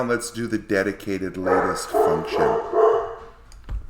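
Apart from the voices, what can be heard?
dogs barking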